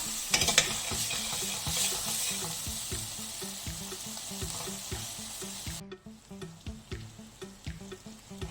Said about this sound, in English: Let's mash the whatever tomatoes are left